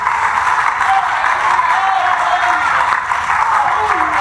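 A church congregation applauds the Lord during a Spanish-language service, a steady, loud wash of clapping crowd noise throughout, with a voice faintly audible beneath it.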